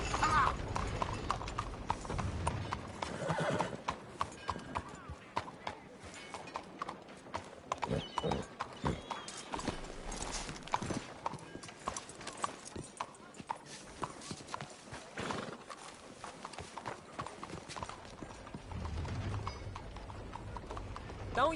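Horse hooves clop repeatedly in Red Dead Redemption 2, the beat steady through most of the stretch, nearby and fairly loud, with no clear neigh standing out.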